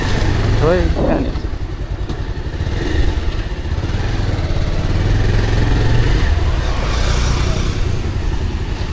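A motorcycle engine runs steadily while the bike is ridden by a young rider, a continuous mid-level drone throughout, with a brief louder burst near the start and people talking over it.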